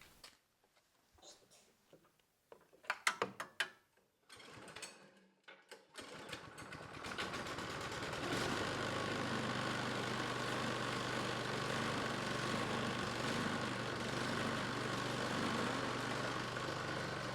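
A Troy-Bilt style snowblower, freshly fitted with a new drive belt, is pulled over with several rattling starter tugs, then its small engine catches and settles into a loud, steady close-up drone.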